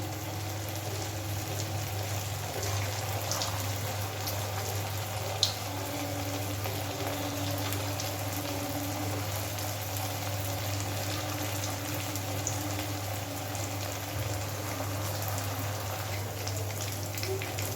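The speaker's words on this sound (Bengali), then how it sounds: "গ্যাসের ফ্লেমটাকে মিডিয়ামে রেখে খুব সুন্দর করে এবার এই চিজ বলগুলোকে ভেজে নেব।" Cheese balls frying in a pan of oil over a medium gas flame, a steady soft sizzle with a faint continuous hum beneath, no talk.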